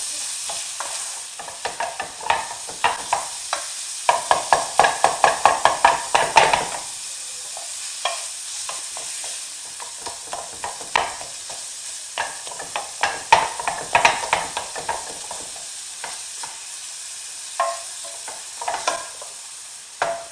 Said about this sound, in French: je continue à émietter la viande et la mélanger